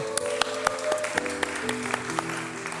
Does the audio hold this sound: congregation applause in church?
yes